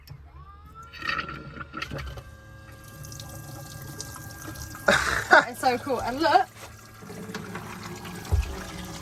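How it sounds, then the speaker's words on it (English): Water pump pushing a stream of water into the sink of a micro camper conversion, a steady close running splash under excited talk, with brief clatter and voices partway through. "try it out and see if the water pump is working."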